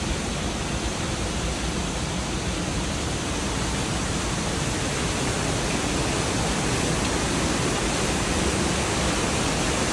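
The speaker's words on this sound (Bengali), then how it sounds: "এই সাইডে ঝর্ণা পড়তেছে, ঝর্ণার ঠিক বিকট আওয়াজ" A waterfall crashing down beside a stepped mountain trail near a small village, producing a dense, unbroken roar that fills the whole space, loud and close, with no voices.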